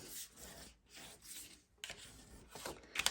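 A paper flap of a mini album burnished from the top: faint, close rubbing strokes in a few slow passes, soft swishing friction of a tool over paper, with no talking.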